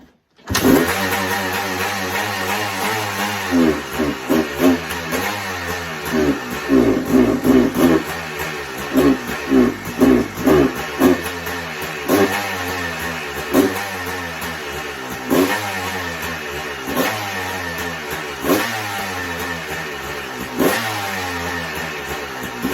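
A 1991 Honda CR250 two-stroke motorcycle engine starts and runs, loud and close, with repeated throttle blips and revs rising and dropping in a bumpy rhythm over a steady rattling idle for the whole stretch.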